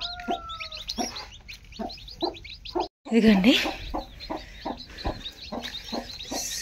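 Hen clucking repeatedly with her nine young chicks peeping around her in a village coop, close and steady, with a brief pause and a louder flurry of clucks midway while a person speaks a short phrase.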